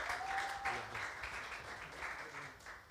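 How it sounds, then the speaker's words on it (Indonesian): Congregation clapping together at an online church service, steady moderate applause throughout with a short voice and a sustained tone early on. "Mari kita berikan tepuk tangan buat Tuhan kita sekali lagi yuk."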